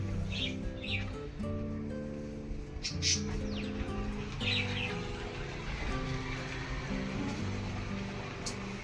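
Birds chirping on a balcony in Bangalore in short scattered calls, heard over a steady low hum and background noise.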